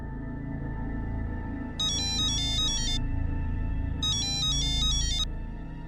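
A phone ringtone sounds in a home, two bright electronic ringing bursts over a steady low background hum.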